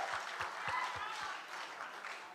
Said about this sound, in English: I think we can clap for UDS.